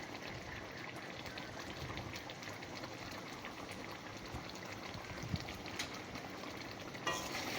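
Pointed gourd in poppy seed paste with whole green chillies simmers in a pan, a steady soft bubbling sizzle that stays even and close throughout, with a faint clink near the end.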